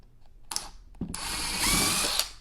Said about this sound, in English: We're just drilling a small pilot hole for those 1/2-inch